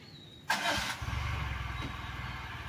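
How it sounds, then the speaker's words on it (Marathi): An automatic tempo's engine cranks and catches after stalling, then settles into a steady, rapid chugging idle close by, with no talk. "तिसऱ्यांदा गाडी बंद पडली."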